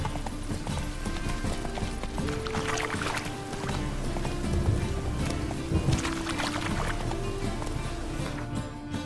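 Hooves clip-clop at a steady, rapid rhythm as a horse gallops in The Witcher 3, a constant mid-level drumming mixed with game ambience and music throughout.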